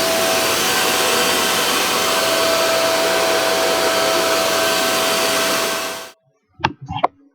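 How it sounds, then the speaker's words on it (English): A loud, steady fan roar with a high whine from a Cheetah Miner F9 bitcoin ASIC miner, around 80 decibels, drones for about six seconds, then cuts off abruptly, followed by a couple of brief knocks. "One thing to notice, here is the noise level of this miner, around 80 decibel."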